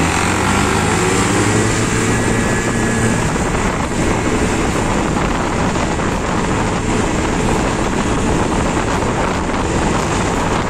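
A repaired Yamaha BWS 125 scooter engine runs steadily and loudly up close, a continuous buzzing drone with broadband, wind-like noise and no talk over it.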